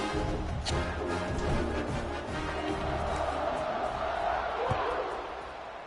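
A simulated stadium crowd in the College Football 26 video game roars steadily, a broad wash of cheering with occasional thumps and shouts, fading slightly toward the end.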